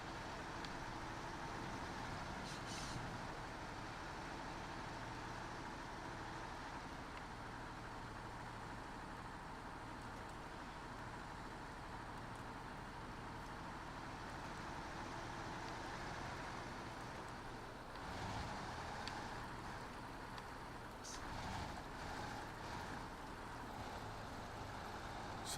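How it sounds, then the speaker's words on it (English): A truck engine in the off-road driving game SnowRunner runs at a low, steady drone, faint and continuous throughout, with no voices. "So the question is this truck going to be able to move the locomotive?"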